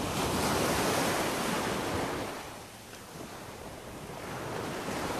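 Ocean surf at Dover Beach in Barbados rolls in a broad, close roar, swelling loudly, easing back, then building again, with wind buffeting the microphone.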